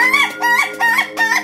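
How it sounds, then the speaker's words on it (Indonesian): An ayam ketawa, a laughing chicken, crows up close and loud in a rapid, rhythmic series of four cackling, laugh-like bursts, with no talking over it. "ayam ketawa yang kita punya itu ada 3 kategori. Ada kategori slow, dangdut, dan durasi atau disco"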